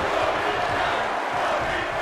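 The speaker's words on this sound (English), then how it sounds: "The roar of this crowd has been building, and they are in a fever pitch right now." A wrestling arena crowd in the WWE 2K22 video game roars in a steady, loud, dense wash of cheering that holds at full intensity throughout, with no clear gaps.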